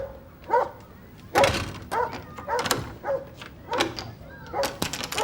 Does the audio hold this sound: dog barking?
yes